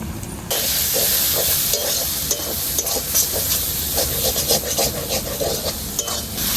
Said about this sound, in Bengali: এবার ভালো মতন মশলাটা কষিয়ে নেব।